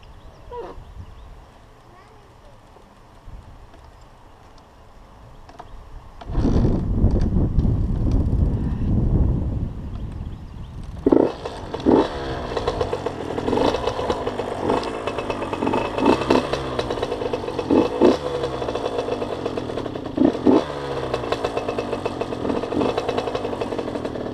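A 2009 Kawasaki KX450 dirt bike, started and revved outdoors. A burst of rough engine noise comes first, then a steady popping idle broken by sharp throttle blips, with wind buffeting and people talking.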